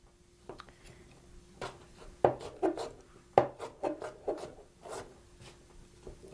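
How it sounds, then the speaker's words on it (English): A knife dices cucumber on a wooden cutting board during home cooking, giving a string of irregular, fairly soft chops and taps with short pauses between them and no talking. "So we've got our cucumber all diced up."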